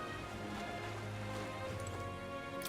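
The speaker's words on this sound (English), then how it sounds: "The rain remains as unpleasant and oppressive as ever" Rain falls steadily in Metaphor: ReFantazio, a soft continuous wash of drops on surfaces at low volume, with no voices over it.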